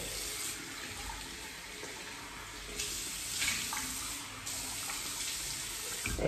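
A bathroom tap runs steadily into a sink as water is cupped to wet the face before shaving, a continuous close splashing stream with a few brief surges and no talk.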